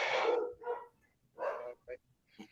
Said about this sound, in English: Dogs are barking like crazy downstairs.